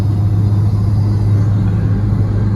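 A car's exhaust at an outdoor car meet gives a loud, close, steady low rumble that holds evenly without revving up.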